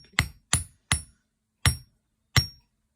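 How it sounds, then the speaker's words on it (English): A hammer gently taps a wire earring piece resting on a steel bench block, five sharp metallic strikes with short ringing decay, evenly spaced at first then slowing, close and alone with no talk. "then you can hammer this piece down, just like very gently, not a lot of force, but just gently."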